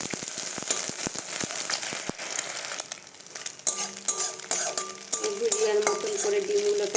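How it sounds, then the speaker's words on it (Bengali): Egg frying in hot oil in a kadai, a steady crackling sizzle with scraping stir strokes and utensil clinks, close and continuous. "কড়াইয়ে তেল দিয়ে দিচ্ছি, গরম হয়ে গেছে, ডিমটা দিয়ে দেবো"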